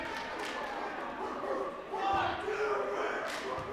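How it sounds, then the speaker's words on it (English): Dogs barking in the crowd at a girls' high school basketball game between Webster City and Humboldt: sharp yips rising over gym crowd noise while a commentator talks. "There are those dogs."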